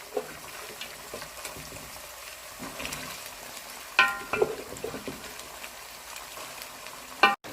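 Mutton sizzles and fries in a pan with whole cumin seeds, with stirring scrapes and a few louder clanks of a utensil against the pan over a steady close crackle.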